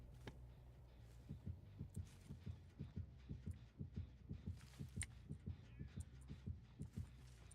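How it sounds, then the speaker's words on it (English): A steady heartbeat in the horror game Dead by Daylight Mobile, a regular thudding pulse of low double beats running throughout, fairly soft against a faint ambient game hum. "I don't know why I hear a heartbeat."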